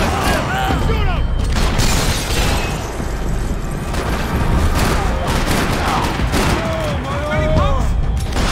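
Rapid gunfire in Max Payne 3 during a tropical-level firefight, loud overlapping bursts and shots with mechanical clatter, while characters shout over the shooting.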